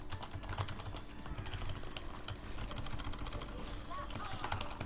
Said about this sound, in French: J'espère vraiment que le son du clavier n'est pas trop fort contre vous